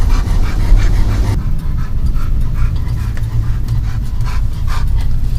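A distressed dog pants heavily and steadily in a waiting area at a vet hospital, with occasional faint whimpers under continuous close breathing noise.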